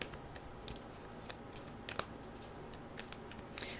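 Quiet riffling and soft snapping of tarot cards being shuffled by hand, in irregular bursts close by.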